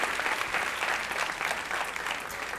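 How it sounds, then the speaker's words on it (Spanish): Applause from a church congregation at a sermon, a dense, steady wash of many hands clapping at once, filling the space evenly without voices standing out. "el aplauso más fuerte es para nuestro Señor Jesucristo"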